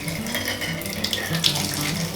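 A household tap runs steadily into a sink or watering can for houseplants, a close, continuous gushing splash with no breaks and no talking.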